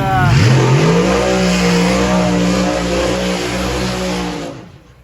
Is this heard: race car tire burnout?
yes